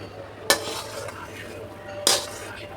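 A wok is lifted off a gas stove in a home kitchen, two sharp metallic clanks of pots and utensils standing out over a soft background hiss.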